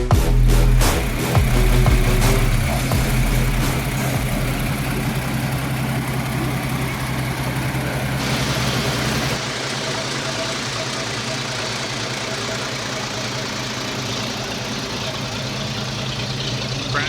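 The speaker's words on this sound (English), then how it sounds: "Pratt & Whitney R2800. Wow. Radial engine there." A Pratt & Whitney R2800 air-cooled radial aircraft engine fitted in a hot rod idles close by with a loud, deep, lumpy rumble, a rougher surge at the start settling into a steady lope.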